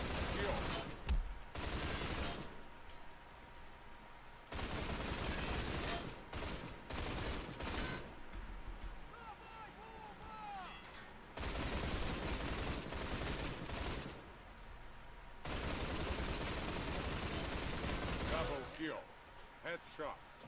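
Gunfire in the online shooter Line of Sight comes in heavy bursts of rapid automatic shots, loud and close, separated by quieter gaps where a player talks.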